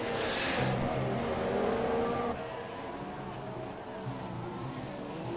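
A Ferrari Formula 1 car's engine in F1 2017 at Singapore, a steady high buzzing drone with a brief whooshing pass early, then settling to a quieter hum.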